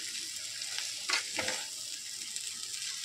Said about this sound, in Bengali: একটু হালকা ফ্রাই মতো করে নেবো